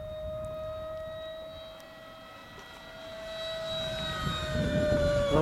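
Hobby Lobby Eurofighter 2000 RC model jet with an electric ducted fan motor whines in flight, a high steady tone that drifts in pitch as it passes, louder and nearer toward the end, with no talking.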